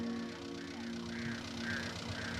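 Ducks honk and quack faintly at a distance in a few soft calls over low background noise.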